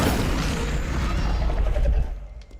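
The Incendio fire spell is cast in Hogwarts Legacy as a loud, dense burst of fiery roar and rumble that fades out over a couple of seconds.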